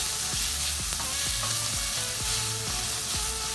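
Vegetables with green onion and scallion sauté in a hot pan, a steady loud sizzle broken by repeated scraping stirs in a rough rhythm, close up, with no voices.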